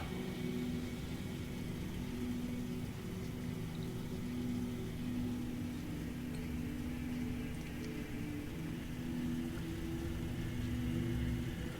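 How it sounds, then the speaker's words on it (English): A car engine rumbles steadily with a deep, throaty muffler drone, passing at moderate distance with constant low roar throughout. "I don't know if you can hear that car going by."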